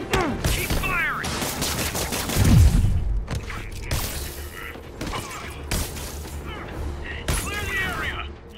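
Gunfire in a Spider-Man game on PS4 Pro during a food convoy raid, with repeated bursts of shots and impacts crackling over a busy mix, including a heavy thump near the middle, under voices and game chatter.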